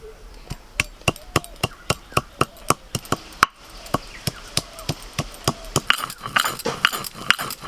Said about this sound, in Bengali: আদা কাঁচা লঙ্কা একসঙ্গে বেটে নেবো।